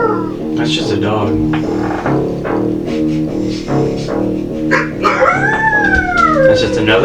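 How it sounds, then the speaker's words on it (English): Another dog howls over a pulsing musical drone, a wavering, bending howl near the end following shorter yelping sounds, close and loud. "That's just another dog."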